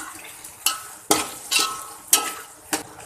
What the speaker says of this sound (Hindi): आलूओं को मैं ये गरम मसाले के साथ और ऑनियन के साथ फ्राई कर लूँगी।